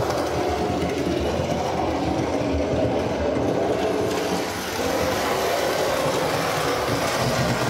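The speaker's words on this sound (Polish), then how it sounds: "Zobaczcie też, jak przyspiesza, bo lokomotywa już jest sprofilowana" A Trix BR17 DRG model steam locomotive with DCC control speeds up along a model railway track, making a continuous, close, fairly loud whirring rumble with fine rail clatter.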